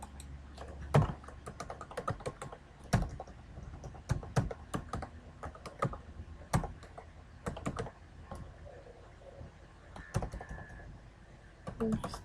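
Typing on a computer keyboard, irregular bursts of sharp key clicks with a few louder taps like the enter key, close and fairly quiet with no talk.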